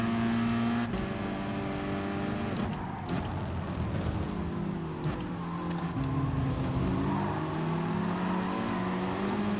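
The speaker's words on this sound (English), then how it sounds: "Remember to rev it out" Race car engine in Gran Turismo Sport revving steadily and droning through rising and falling pitch sweeps, loud and close, with no talking over it.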